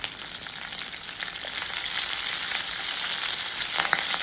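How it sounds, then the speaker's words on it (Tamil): Drumstick leaves sizzle steadily in a pan with garlic cloves and shallots, a continuous close frying hiss that swells slightly toward the end, with no voices. "கூடவே 8லேருந்து 10 பல் பூண்டு, 6லேருந்து 8 சின்ன வெங்காயம் சேர்த்து கொஞ்சமாக வதக்கிக்கோங்க."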